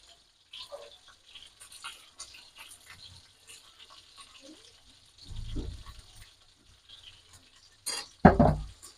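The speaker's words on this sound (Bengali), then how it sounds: "আমি ধনিয়া পাতা দিয়ে আবার মিশিয়ে নিচ্ছি, একটু উল্টিয়ে পাল্টিয়ে দিচ্ছি" Fried eggplant slices in a pan being turned and stirred with coriander leaves, giving scattered soft utensil scrapes and clinks, with two louder scraping knocks near the middle and end.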